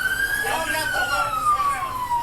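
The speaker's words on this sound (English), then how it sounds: "Somebody shut off that siren." A police siren wails in a long, slowly falling tone, loud and close against a noisy background.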